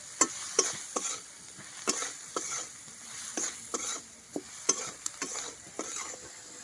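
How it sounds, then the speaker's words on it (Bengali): Potatoes frying in a pan with salt and turmeric, a soft sizzle under frequent quick spatula taps and scrapes in an uneven rhythm, close and fairly quiet with no speech. "দিয়ে ভালো করে আলুটাকে ভেজে নেব"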